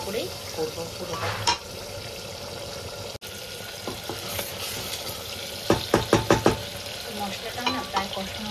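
Masala for mutton sizzles in a pressure cooker as it is sautéed, with a soft frying hiss, scattered scrapes of a spoon, and a quick run of clattering stirs near the end.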